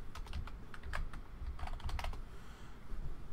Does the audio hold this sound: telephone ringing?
no